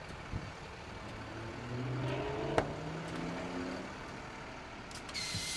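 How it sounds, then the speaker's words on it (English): Air suspension drops on a 2025 International MV Jerr-Dan flatbed rollback tow truck, with the engine running steadily nearby, a sharp knock midway and a sudden burst of hissing air near the end. "I'm gonna drop the suspension so you can see how that works."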